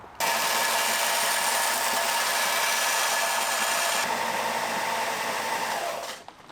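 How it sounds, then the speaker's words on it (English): A belt grinder, a belt sander used for metal, shapes a metal bracket: a loud, steady abrasive roar runs close and unbroken for about six seconds, then cuts off. "So now I'll take it to the belt grinder, which is really just a belt sander."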